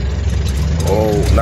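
An owner-type jeep engine drones steadily in second gear, a low rumbling hum close by with people talking over it.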